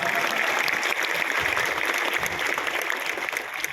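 A live audience at a direct-selling business talk claps together in a steady, dense wash of applause lasting a few seconds, fairly loud and even throughout with no speech over it.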